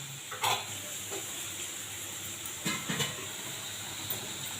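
Chopped onions with turmeric softly sizzle and fry in a pan, with a few brief scrapes and clinks of stirring over a steady low hiss.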